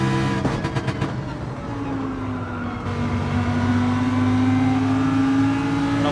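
A Porsche engine revs hard up close, sharp throttle blips giving way to a sustained rising drone as it accelerates, loud and steady throughout.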